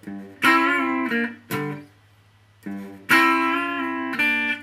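Guitar playing a riff slowly, with notes bent up and released back down: several distinct sustained notes separated by short pauses, moderately loud and close, with no talking.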